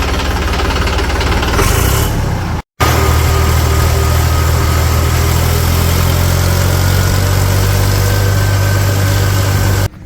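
A tractor engine idles loud and close with a steady, rough, knocking rumble that carries on throughout, with one short dropout near the start.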